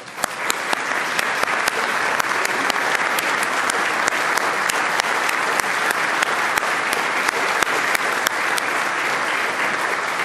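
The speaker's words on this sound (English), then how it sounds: "we want to applaud him for such a wonderful, wonderful symbol" Audience applause at an elementary school art contest ceremony at the House of Delegates, a dense, steady clapping from many hands that continues evenly for about ten seconds with no voices over it.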